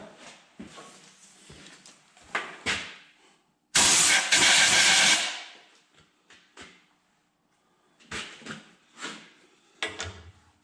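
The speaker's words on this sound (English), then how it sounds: "Get the air nozzle over here." A compressed-air nozzle gives one loud, sustained blast of rushing air lasting about a second and a half while an engine cylinder head is being machined. Scattered knocks and handling noises come before and after it in the shop.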